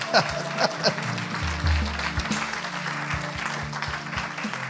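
A church congregation applauding and cheering in a steady, dense wash of clapping with voices mixed in, over a low hum of music in the background.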